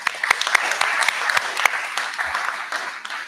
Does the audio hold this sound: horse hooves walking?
no